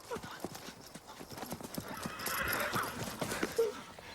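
Horses clip-clop with steady hoof beats and give a whinny near the end, with voices talking over them, apparently during a race.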